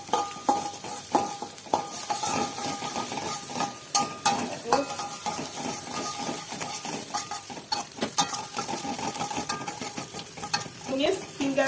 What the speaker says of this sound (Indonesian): Tumis hingga layu dan warnanya agak kekuning-kuningan.